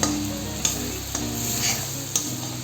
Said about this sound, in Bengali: মশলা আমার কষানো হয়ে গেছে, মশলা থেকে তেল ছাড়ছে।